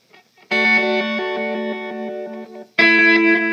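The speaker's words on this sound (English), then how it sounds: "I have my reverse reverb" An electric guitar through a reverse reverb pedal rings out two sustained, shimmering chords, each held with a thick washy tail and no voices.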